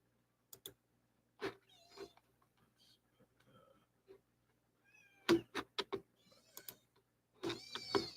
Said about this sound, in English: I rescued a kitten the other day, so that's the noise that you hear in the background.